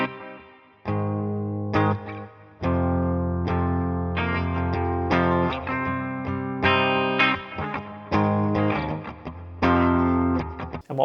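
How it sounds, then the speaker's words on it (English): Electric guitar through an IK ToneX tone with room reverb, distorted chords and notes played in separate bursts, each ending in a heavy, subtle-toned reverberant tail, close and loud with no talking. "So we'll try out the room. It's a little bit more subtle on the reverb."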